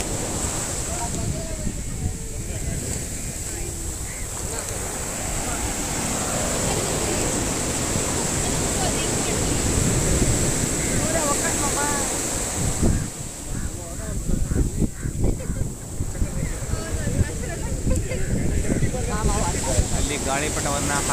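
Waves on Kozhikode beach at sunset, a continuous surf roar mixed with strong wind buffeting the microphone, with rolling swells and faint voices underneath.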